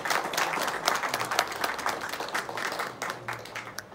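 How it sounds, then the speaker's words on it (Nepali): A church congregation of believers applauds to welcome its leaders, a steady patter of many hands clapping at moderate distance, with no speech over it. "सबै विश्वासी दाजुभाइ दिदीबहिनीहरुलाई ताली बजाएर स्वागत अनि धन्यवाद"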